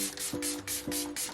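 D'Alba First Spray Serum mists onto hair in four quick, soft hissing bursts, evenly spaced and close, with faint clicks of the pump between them.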